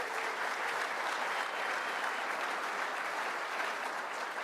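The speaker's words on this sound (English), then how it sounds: "how about a round of applause for them?" A room full of award-dinner guests at the Missouri Athletic Club applauds the evening's award winners, a dense, steady ovation that holds at full strength throughout without a break.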